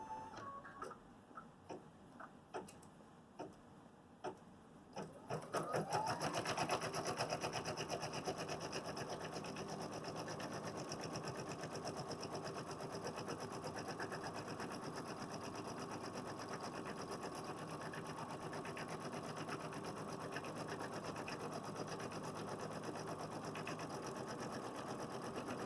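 An embroidery machine stitching a design onto stabilizer starts after a few seconds of quiet room sound, then runs in a faint, steady, rapid mechanical chatter that lasts to the end.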